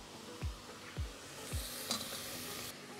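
Broken-up tomatoes drop into a pot with three soft, evenly spaced thuds, followed by a quick scrape and a faint simmering hiss in the background.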